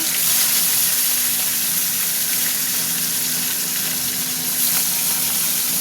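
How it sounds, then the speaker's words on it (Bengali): Fish pieces fry in hot oil, a loud, steady sizzle with bubbling and a faint low hum underneath, continuous throughout. "মাছগুলো দিয়ে দিচ্ছি ভাজার জন্য।"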